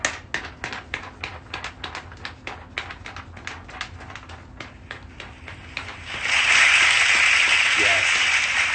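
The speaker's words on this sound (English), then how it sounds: "I want to make a warm round of applause, first of all, for an amazing teacher by the name of Demetrius Hurd" Scattered individual hand claps at an award show honoring music teacher Demetrius Hurd swell into loud, dense audience applause that holds steady near the end.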